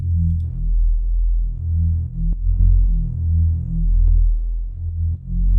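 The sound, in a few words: sub bass through Melda Audio M-Bit bitcrusher, drum and bass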